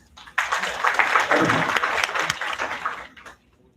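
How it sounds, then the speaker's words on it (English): An audience at the DIGI-SUSTAIN 2026 conference bursts into a brief round of applause for the conference chairs, dense clapping that rises quickly, holds for about three seconds, then fades out. "A big round of applause for both the conference chairs."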